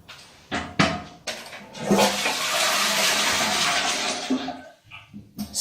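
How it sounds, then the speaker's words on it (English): A white ceramic WC with a chrome push-button flush lets go with a loud, close rush of water that swells for several seconds and then drains away, with a few bathroom knocks around it and no talk. "White ceramic WC with white plastic seat and lid and chrome push button flush."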